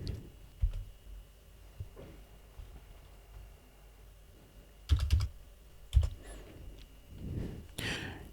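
Keystrokes on a computer keyboard while entering a password during an Ubuntu 24.04 server user setup, a few scattered soft taps with sharper clustered clicks near the middle and end, fairly quiet against room hiss.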